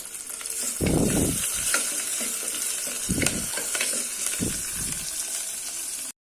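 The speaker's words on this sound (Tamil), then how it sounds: "நான் ரெண்டு பச்சை மிளகாய் கட் பண்ணி வச்சுருக்கேன் அதை போட்டுறேன் அதுக்கப்புறம் ஒரு கொத்து கருவேப்பிலை" Green chillies and curry leaves fry with softened onions in hot oil for a tomato kuzhambu, a steady close sizzle punctuated by several louder crackling bursts.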